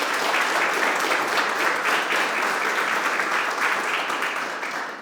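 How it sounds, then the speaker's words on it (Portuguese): Sustained, full applause from a church congregation, loud and even for about five seconds before tapering slightly at the close. "Quem pode dar uma salva de palmas para Jesus?"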